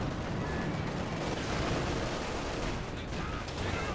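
Dense, continuous gunfire and cannon bursts from anti-tank guns in the strategy game Company of Heroes 2, a loud sustained battle din of overlapping shots with tanks fighting on a port map.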